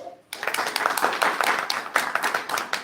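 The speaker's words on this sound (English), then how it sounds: "Everybody clap." An audience at a Japanese writers' reading event at a minka house breaks into applause after a moment of quiet, a dense patter of clapping hands that stays moderately loud and even.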